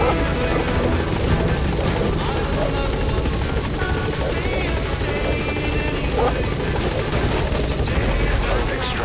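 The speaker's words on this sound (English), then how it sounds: "Support helicopter has arrived." A video game helicopter's loud, steady rotor roar and engine whine fill the scene, constant and close, with faint game background activity underneath.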